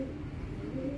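A racing pigeon gives a short, low, soft coo at close range.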